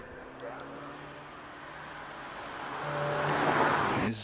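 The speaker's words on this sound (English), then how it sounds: "a much more modern machine on the hill is Graham Ramsey, 252 in the 2-litre Seat Cupra" A 2-litre Seat Cupra, car 252, climbs the Prescott hillclimb course in the British Hillclimb Championship, its engine note rising and swelling louder as it approaches, heard from trackside with broad road noise.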